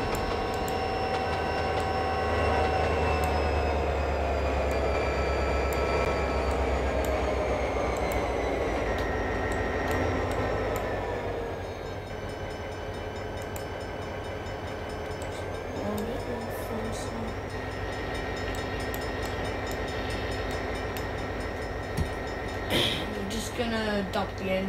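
An electric commuter train in the Trainz 2009 railway game runs with a steady whine of rising and falling motor tones and a low rumble, easing off midway, while someone talks over it.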